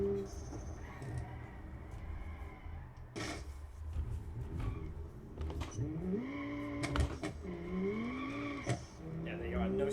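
Simulated car in the Automation video game spinning its wheels and understeering, engine pitch surging up and down with short tire squeals, someone talking over it throughout.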